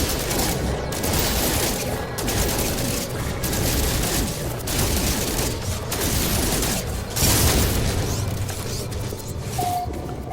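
Sustained rapid gunfire blasting at a door in the No Man's Sky game, a dense continuous barrage of booms and crackling shots with brief pauses, loud and close throughout.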